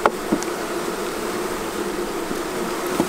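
A steady, dense hum of honey bees buzzing inside small mating boxes during queen rearing, continuous and close, with a few faint clicks of handling and no talking.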